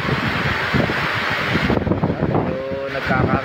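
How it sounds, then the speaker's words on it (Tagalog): Strong gusts from Typhoon Opong roar steadily across the microphone outdoors in Padre Burgos, a dense, continuous rush that briefly eases, with a person talking underneath. "Nagbabago na po yata ang ihip ng hangin"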